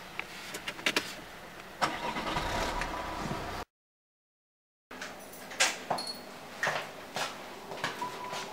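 A car engine cranks and tries to start, with short chugging bursts and a longer churning turnover, then a silent gap before several more uneven cranking pulses.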